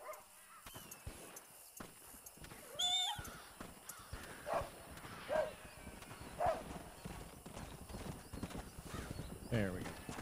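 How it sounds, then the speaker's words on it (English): A horse in the video game Red Dead Redemption whinnies and clops amid game ambience, with a few short neighs rising over hoofbeats and someone talking intermittently. "Whoa, horsey. I'm gonna name you Horsey."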